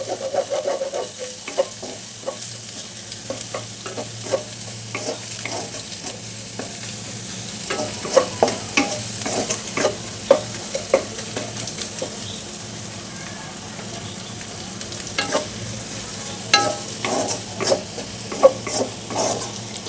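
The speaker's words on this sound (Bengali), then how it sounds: "কিছুক্ষণ একটু ভেজে নিচ্ছি" Egg mixed with onion and chili fries in a pan with a constant close sizzle, and a spatula scrapes and taps repeatedly throughout.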